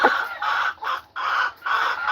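A game rooster on a farm in Aklan gives loud, close, drawn-out clucking calls in three bursts separated by short pauses, with no talking.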